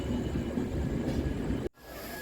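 Darjeeling Mail train pulling into Barddhaman Junction, a fairly quiet low rumble of moving carriages that cuts off abruptly near the end before a softer hum resumes.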